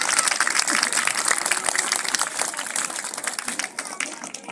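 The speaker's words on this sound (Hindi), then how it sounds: "तो एक बार दिनेश जी सर के लिए ताली होनी चाहिए जोरदार" Loud, dense clapping from a school audience at a Republic Day celebration, a crowd applauding steadily for a guest and slowly thinning toward the end, with no voices over it.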